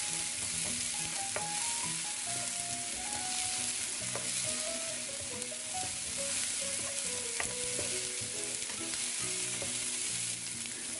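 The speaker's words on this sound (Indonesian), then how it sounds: "Lanjut kita tumis sampai tomatnya layu." Garlic, onion, tomato and chili sautéing in a pan make a steady, close sizzle for the whole stretch, with light clinks and scrapes of stirring. There is no talk.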